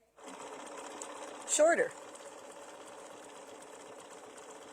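A sewing machine runs steadily through a mini quilt block, a continuous close whir and hum under a voice, with a brief handling bump partway through.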